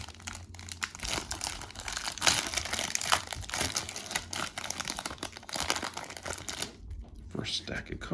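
A 1987 baseball card rack pack wrapper is torn open close up, with repeated crinkling and crackling of plastic in irregular bursts and a voice talking over the handling.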